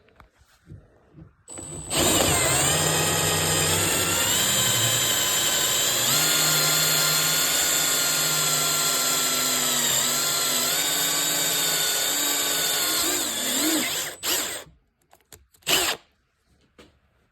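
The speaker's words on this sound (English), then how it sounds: "But now I got this airtool bit in there, and I'm just gonna square up with it." Air-powered drill with a bit boring into a CZ-75 Compact Mec-Gar pistol magazine, a loud sustained high whine lasting about twelve seconds with a brief dip in pitch midway, then spinning down, followed by a short burst.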